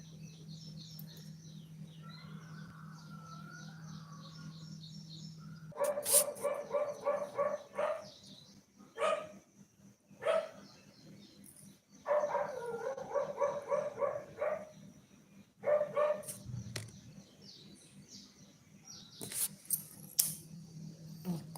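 Dogs bark in several separate bursts, each a short run of barks, moderately distant and not very loud. Faint chirps and a low hum fill the quieter gaps.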